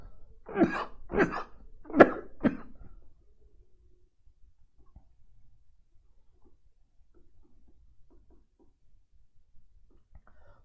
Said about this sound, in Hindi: देखो खांसी, कफ सिरप पीने के बाद खांसी हो जाती है